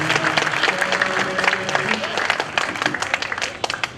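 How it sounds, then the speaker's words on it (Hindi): A crowd at a felicitation ceremony in Bhind gives loud, sustained applause to welcome a speaker, with a voice speaking over the clapping early on before the clapping breaks into more separate, sharper claps toward the end. "मैं चाहता हूं कि भिंड के जाबाजों की जोरदार तालियों से उनका स्वागत हो"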